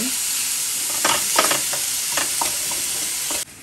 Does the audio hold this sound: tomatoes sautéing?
yes